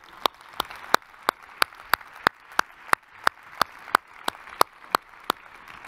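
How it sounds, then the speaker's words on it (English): Sparse, steady clapping from a small audience in a venue at a closing session, about two sharp claps per second, fairly near and moderately loud over a low room background. "So another big round of applause for everyone in this venue"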